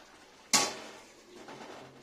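A metal pot lid clanks down once onto a pan of vegetarian potato and pointed gourd curry, a single close sharp contact that rings briefly and fades into a faint simmer.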